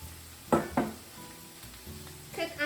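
Shrimp and spinach stir-fry in a pan with a low steady sizzle, broken by a few sharper scrapes and clatters of stirring, close up with no talk.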